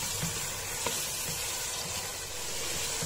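Garam masala spices fry in hot oil for a Karachi-style chicken nawabi biryani, a steady broad sizzle and hiss with faint stirring, close and continuous throughout.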